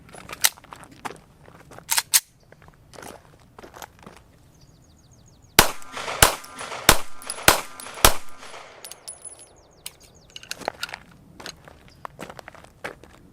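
Five pistol gunshots from a handgun fitted with a small Riton MPRD 2 red dot, sharp loud cracks in a quick cluster outdoors, followed by scattered lighter clinks and footsteps.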